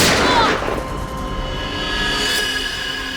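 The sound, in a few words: gunshot in TV drama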